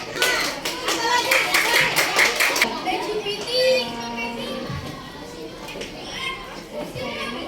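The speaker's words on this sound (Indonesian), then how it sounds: "Terima kasih, tepuk tangan." A classroom of children claps in a burst of fast, dense applause that soon thins out, with kids chattering and an adult voice over it.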